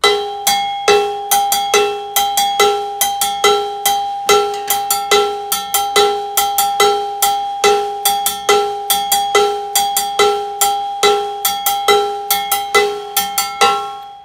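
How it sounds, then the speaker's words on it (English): An Afro-Caribbean bongo-bell pattern is struck on a mounted cowbell in a drum-set lesson, with loud, steady, evenly repeating metallic hits in a tight syncopated rhythm and no talking. "example one is that same pattern played now on a mounted bell"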